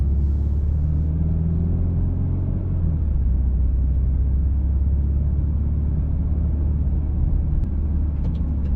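A car pulls out onto the road, its engine giving a low, steady rumble heard from inside the cabin, unbroken and fairly loud from start to finish.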